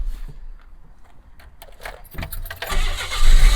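A 1988 Mazda 323 started with the key: keys jingle and click near the start, then the engine cranks and catches, rising to a loud, close running rumble by the end.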